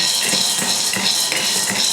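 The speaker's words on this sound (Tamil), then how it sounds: "ஃபஸ்ட்டு ஒரு கடாய் வச்சுட்டு அதில் ராஜ்மாவை சேர்த்துக்கலாம். லைட்டாக வறுத்து எடுத்துக்கலாம்." Dry rajma kidney beans are roasted in a kadai and stirred, giving a loud steady rattle and scrape of hard beans against metal with rhythmic stirring strokes and no talking.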